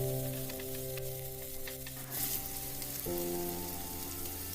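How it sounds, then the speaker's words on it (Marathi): Moong dal sautéing in hot oil with asafoetida for a chickpea leaves dish, giving a steady soft sizzle with light crackles under a faint background hum. "आता मी लगेचच मुगाची डाळ घालून घेते. याला पण थोडंसं परतून घेऊया."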